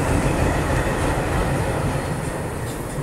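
An Indian Railways Madar passenger train rolls past at close range, a loud, steady rumble of wagons and wheels filling the whole stretch without pause.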